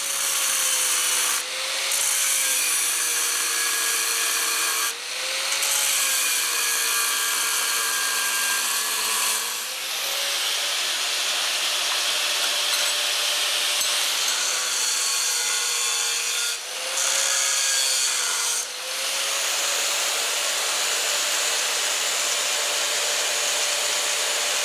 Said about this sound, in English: cutting the pedal assembly